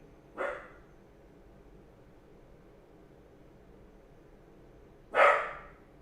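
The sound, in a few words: dog barking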